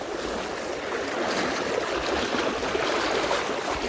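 Floodwater from heavy unseasonal rain flows through a village, knee deep, as a steady broadband rushing and gurgling wash that stays constant and fairly close throughout.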